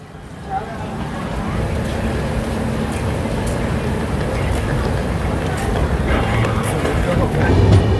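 Howrah-Puri Superfast Express train running between stations, a loud, continuous rumble and rattle of wheels on track heard from inside the coach, building slightly toward the end.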